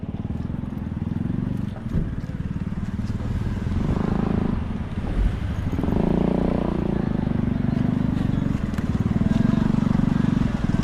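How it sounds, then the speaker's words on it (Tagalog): A motorcycle rolls slowly past on a narrow street, its engine a steady low rumble that swells and eases, heard up close over general street noise. "Abantayin mo na, padaanin mo na ito motor."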